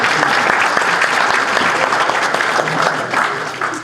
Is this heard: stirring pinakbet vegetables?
no